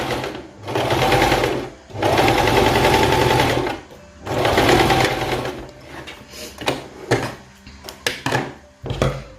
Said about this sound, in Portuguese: Porque a gente vai passar uma costura aqui, ó.